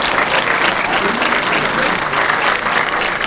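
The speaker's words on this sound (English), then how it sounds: "I want everyone to give a good round of applause for all the guests here." Loud, sustained audience applause at a Power Rangers panel at a comic convention, a thick continuous roar of clapping and crowd noise filling the hall.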